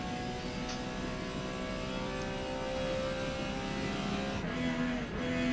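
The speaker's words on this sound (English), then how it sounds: "Putting the power down on this back curving straightaway. Getting back up to about 200, 220, 230 miles an hour through this section right here." A Porsche 956 racing engine in Forza Motorsport at Hakone Grand Prix Circuit, holding a steady high-revving drone at speed on a curving straight, with a brief dip and pitch shift near the end.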